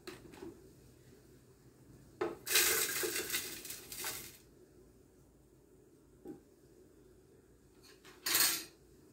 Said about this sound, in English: I'm gonna pour my can of quake oats in my blender